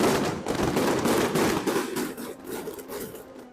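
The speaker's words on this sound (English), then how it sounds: "Tonight's fireworks reenact that epic naval battle." Fireworks bursting over a carnival night sky as a reenactment of a naval battle, a dense continuous barrage of overlapping booms and crackles that rolls on without pause, loud and sustained throughout.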